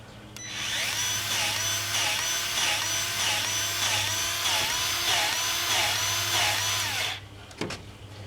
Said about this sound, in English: put in the grease gun, purge that bearing a little bit